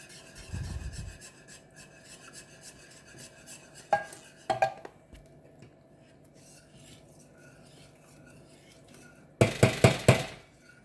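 A whisk or spoon scraping and clinking against a metal pot while red Thai curry is being mixed, quiet rubbing broken by a few sharp clatters and a louder cluster of metallic taps near the end.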